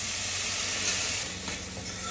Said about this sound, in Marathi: त्याच्यात घालूया हे दाणे चवळीचे.